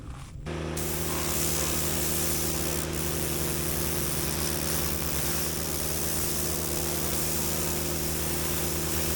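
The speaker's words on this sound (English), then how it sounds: "I'm gonna kind of target those areas, pressure wash it again" A pressure washer blasts water over an old backhoe during a frame restoration, a loud, steady hiss of spray over a constant engine drone that runs unbroken for the whole stretch, with no one talking.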